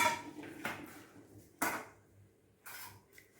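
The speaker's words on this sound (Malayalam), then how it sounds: "ഇങ്ങനെ വട്ടത്തിൽ വട്ടത്തിൽ അരിയാണ്" A knife cuts a vegetable into rounds in a village home kitchen, giving a few sharp, separate chops against a board, close and clear, with quiet gaps between strikes.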